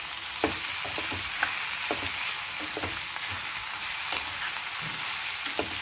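Ivy gourd stir-frying in a pan with oil and turmeric, giving a loud, steady hiss of sizzling with periodic soft scrapes and taps of a spatula tossing the pieces, close and without talk.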